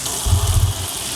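Water gushing from an RV's plumbing with steady pressure, a brief loud rush from the tap, close and alone.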